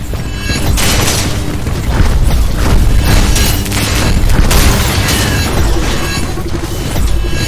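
Loud, dense rumbling booms and crashing blasts from explosions in the video game Banhammer Boiling Steel, sustained and layered without pause, with no talk over them.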